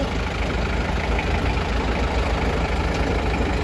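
A Toyota 7FD25 diesel forklift idles with a steady, low, rumbling engine drone that stays even and continuous from start to finish, with no talk over it.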